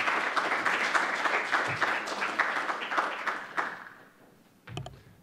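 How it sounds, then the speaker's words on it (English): An audience applauds as a speaker is welcomed to the podium at a panel discussion on Estonia's digital ecosystem, with steady dense clapping that fades out near the end, followed by a brief closing thump. "with your applause, will you please welcome Daniel Chenok to the podium?"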